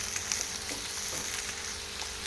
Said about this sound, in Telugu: కాకరకాయ ముక్కల్ని కొద్దిగా ఫ్రై చేసుకున్న తర్వాత ఆనియన్ వేద్దాం.